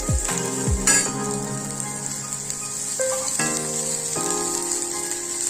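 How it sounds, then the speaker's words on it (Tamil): Bottle gourd sautéing in oil in a pan gives a continuous light sizzle, with a few clanks and scrapes from stirring and a steady background tone. "கொஞ்சம் வானிலையில் எண்ணெய் விட்டு சொரக்காயை ஈரப்பதம் போக வதக்கிக்கணும்"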